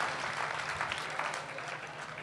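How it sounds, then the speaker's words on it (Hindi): Audience at a kavi sammelan, a Hindi poetry gathering in Pali in 2018, applauding a poet. The clapping is a soft, steady, dense patter throughout, fairly distant, with no clear voices over it. "एक बार दोनों हाथ ऊपर उठाकर आपकी आकाश भर तालियां"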